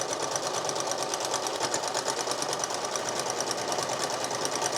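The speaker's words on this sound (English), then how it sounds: "I'm going to use a straight stitch to attach it to the bottom of the dress" A sewing machine straight-stitches trim onto the bottom of a dress, giving a fast, even mechanical whir with a rapid needle rhythm. It runs steadily and close by throughout.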